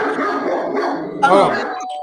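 Dogs barking indoors in short excited bursts, close and loud, mixed with people talking over them.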